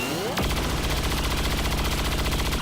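Sustained rapid automatic gunfire in XCOM 2 erupts after a brief lead-in, a loud, continuous rattling burst of shots that runs steadily to the end without any talk.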